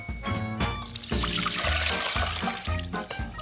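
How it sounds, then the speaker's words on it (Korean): Running water pours and splashes over frozen seafood being rinsed in a kitchen sink, with rhythmic bursts of clattering and sloshing as the pieces are moved under the stream, close and fairly loud. "냉동된 그 해산물을 이렇게 가볍게 세척해 주시면 좋아요"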